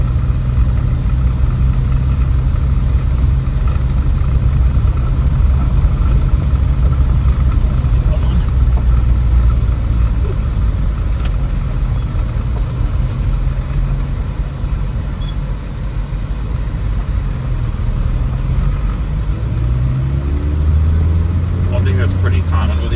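Car engine hum with a manual transmission while driving, a steady low drone running the whole stretch at fairly even loudness with a slight dip midway, as someone talks over it.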